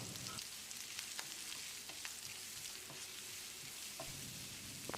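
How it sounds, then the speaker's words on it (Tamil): Steady sizzling of small onions sautéing in a pan, a continuous hiss with occasional soft stirring clicks, close and moderately loud, no talking. "ஒரு 10 சின்ன வெங்காயத்தை பொடியாக நறுக்கி வச்சுருக்க இதையும் போட்டு நல்லா வதக்கிடலாம்."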